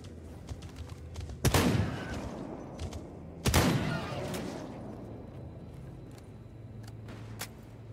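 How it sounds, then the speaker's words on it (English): Two sharp gunshots from the Stalker GAMMA video game ring out about two seconds apart, each with a decaying echo tail, over a low steady ambient hum. "There's some gunshots over here."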